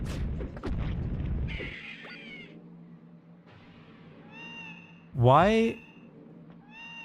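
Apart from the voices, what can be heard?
cat meowing effect from touching walls in video game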